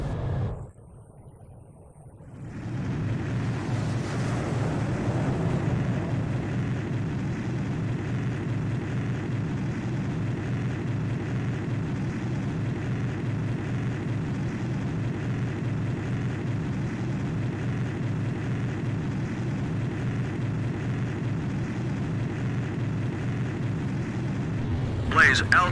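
Jet fighter engine roar during a carrier catapult launch in the Ace Combat 5 video game, a loud, steady low rumble that holds for about twenty seconds after a brief dip at the start, with radio talk over it.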